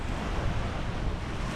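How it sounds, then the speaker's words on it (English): Ocean waves break on the shore at Acadia in Maine. Heard up close, the surf makes a steady, loud, broadband roar mixed with wind buffeting the microphone, with no talking. "The waves are bigger."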